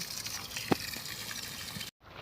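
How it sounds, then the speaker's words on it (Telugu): Water splashing and trickling steadily with a brief louder splash partway through, then a sudden cut to near silence. "పైపు బాగలేదు కాబట్టి చాలా ప్రాబ్లం ఉందండి చూడండి ఇక్కడ వాటర్ పోతున్నాయి"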